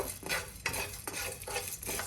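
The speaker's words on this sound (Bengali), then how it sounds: "তো এখানে আমি মশলাগুলো কিছুক্ষণের জন্য ভেজে নিব" Whole spices dry-frying in a pan for a kacchi biryani, stirred in a steady rhythm of about four scraping strokes against the pan over a soft, continuous sizzle.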